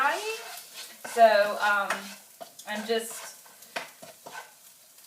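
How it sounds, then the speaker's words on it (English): Lunch stir-fries in a pan on high heat with a little cooking spray, its hiss and stirring scrapes sitting under a person talking close by. "let's get this stirred up, and obviously not a whole lot to go behind just stir frying"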